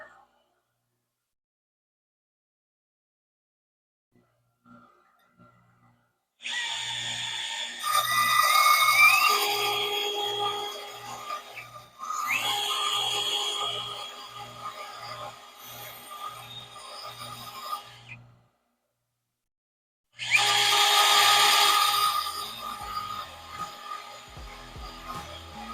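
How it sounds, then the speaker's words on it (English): A drill spinning a tungsten welding electrode against a grinder, used lathe-style to sharpen the tip, giving bursts of close, rough grinding with a rhythmic ticking undertone, separated by pauses of near silence. "this essentially acts like a lathe and allows me to grind the tungsten to a correct point"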